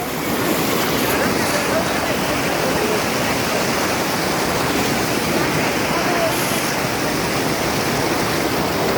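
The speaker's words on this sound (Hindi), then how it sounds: "और वो पानी बहुत तेज़ आ रहा है यहाँ पे देखो।" Fast-flowing water from a hidden waterfall near a dargah in Rajasthan roars as a constant dense rush, loud and steady throughout, with no talk heard.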